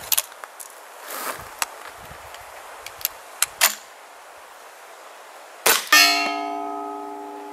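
A Marlin Camp Carbine 45 firing a cast bullet: a few small handling clicks, then one sharp, loud report followed by a lingering metallic ring that fades slowly.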